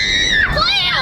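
Children screaming and shrieking at a state beach, a loud, high-pitched burst close to the microphone with voices mixed in.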